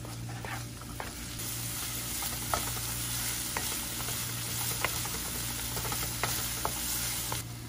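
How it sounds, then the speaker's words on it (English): Garlic and onion sauté in a pan for chicken hamonado, a continuous bright sizzle with scattered light clicks of stirring and a low steady hum beneath, no talking. "Then let's add garlic and onion on pan and saute."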